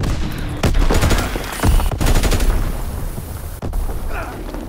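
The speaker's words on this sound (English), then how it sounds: "Dropping Fritz X bomb." Call of Duty: WWII match with Fritz X bomb blasts and rapid gunfire, loud bursts of automatic fire broken by a few sharp booms, with voices calling out in the mix.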